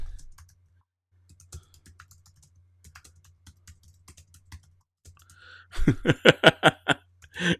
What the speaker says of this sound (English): I'm typing it in the chat right now.